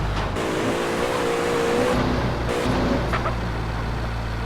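Porsche Cayenne Turbo S engine in GTA San Andreas, a loud, steady game-engine drone with rising and falling revs as it pulls out of a garage, with someone talking over it.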